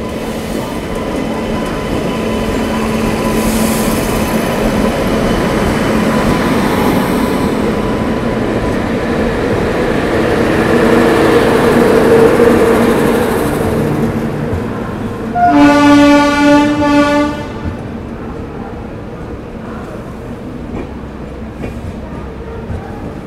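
The Visakha Express 17015 passenger train rumbles along steadily, a long loud rolling roar with a bright horn blast partway through before the noise eases off.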